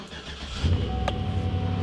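A Chevrolet Silverado truck engine cranks briefly and catches, settling into a steady low idle close to the microphone.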